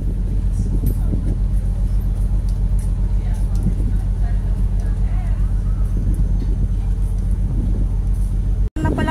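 A boat engine on a trip around Gozo Island, Malta, runs with a steady low rumble throughout. Wind buffets the microphone and a brief dropout comes near the end.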